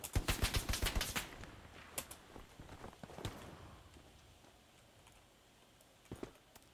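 Gunfire in the World War II shooter Hell Let Loose: a rapid burst of sharp shots at the start, then scattered single cracks and a later pair of shots, fairly quiet overall with faint background noise.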